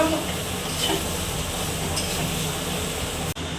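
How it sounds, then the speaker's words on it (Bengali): Cumin and chili paste fries in a pan with a dense, steady sizzle throughout, loud and close, ending with a brief soft knock. "জিরে মরিচ বাটাটা দিয়ে আমি আবারও একটু কষে নেব"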